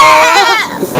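A man in a Bangla comedy drama vocally imitates a goat's bleat, a loud, wavering bleat-like cry near the mic lasting about a second, with no other talk.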